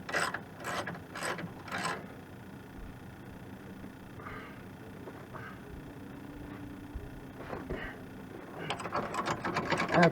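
A ratchet tightens a bolt on the steering knuckle of a 1997 Chevy Blazer, giving several quick bursts of clicking near the start, then quieter intermittent mechanical clicks and a final clattering flurry.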